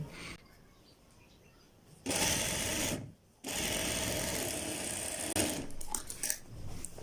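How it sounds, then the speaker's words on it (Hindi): Sewing machine stitching a shirt seam, two loud sustained runs of whirring stitching separated by a brief pause, preceded by quieter handling noise. "आपने बिल्कुल आधा इंच मार्जिन में हमारी ये सिलाई लगा लेनी है"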